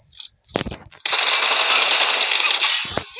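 Video game AK and M4 rifle fire: a couple of quick sharp shots, then a sustained loud automatic burst of roughly two seconds, close and dense, ending with one more crack.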